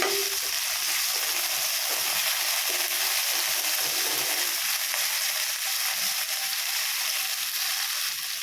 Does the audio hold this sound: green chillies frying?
yes